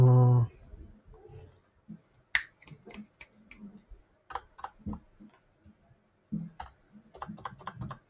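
Typing on a Dactyl Manuform split keyboard fitted with Cherry MX Brown switches during speed-typing practice: close, crisp keystroke clicks in uneven bursts and runs, with short pauses between flurries.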